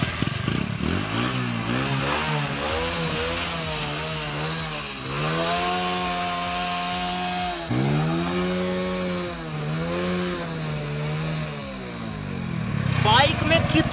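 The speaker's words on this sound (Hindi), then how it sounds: "और बाइक बंद भी हो रही है, थोड़ा पावर लूज कर रही है बट स्टार्ट हो रही है" A motorcycle engine running on a diesel and petrol fuel mix, idling roughly with a steady low drone that sags and recovers as it loses power, near and loud throughout.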